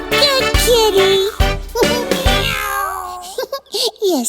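A cartoon kitten meows repeatedly in high, bending cries, loud and close, with short pauses between calls and a few lower thumps beneath.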